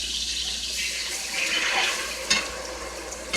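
About half a cup of water splashes into a hot pan of smothered cabbage with green peppers, giving a steady sizzling hiss that swells, then settles into a softer simmer.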